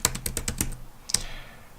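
A compact, cheap rechargeable keyboard clatters with a quick run of crisp key taps, then a short pause and one more stroke, close and fairly loud.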